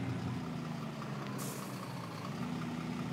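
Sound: Volvo FMX dump truck driving

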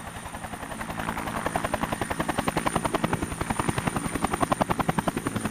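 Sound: helicopter

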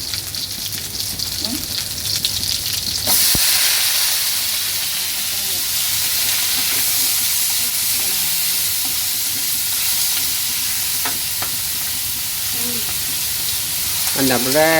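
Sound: frying pork with garlic in a pan

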